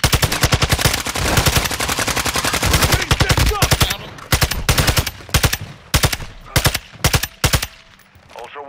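Loud, rapid automatic gunfire in the Call of Duty DMZ video game, long sustained bursts of dense shots giving way to shorter broken volleys, with faint voices underneath.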